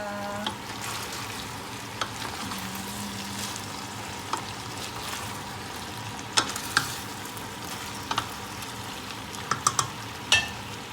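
Coconut milk and squash cooking in a pot for ginataang kalabasa, a soft steady sizzle and bubbling with a few sharp clinks of a utensil against the pot, no talking.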